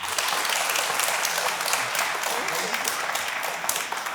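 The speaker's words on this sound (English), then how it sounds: "On stage, please, a big round of applause for Ikra Iltaf." Sustained, dense applause from an audience fills the hall at an awards ceremony, even and loud throughout.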